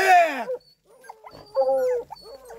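Hunting dog whimpering during a paca hunt, giving a strong whining cry at the start and then softer broken whines and yelps, close by with no talk.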